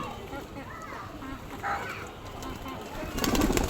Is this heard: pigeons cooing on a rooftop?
yes